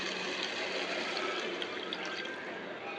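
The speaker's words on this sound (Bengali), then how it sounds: "তাতে পানি দিয়ে দিব," Water poured into fish curry cooking in a curry cooker, a steady broadband pouring hiss lasting throughout, close and fairly loud with no talk.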